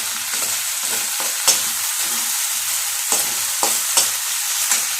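Raw plantain fries in a pan with tomato just added, giving a steady close sizzle with a few sharp scraping stirs.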